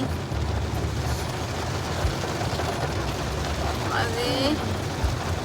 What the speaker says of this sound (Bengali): এই যে মাথার মধ্যে বৃষ্টি